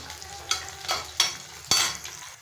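A ground garlic, ginger and green chilli paste fries in a pan for vegetable pulao over a soft sizzle, broken by four brisk scraping stirs spaced about half a second apart.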